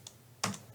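A few quick computer keyboard keystrokes, a light tap followed by a louder double click and a faint final tap, close and isolated with no speech.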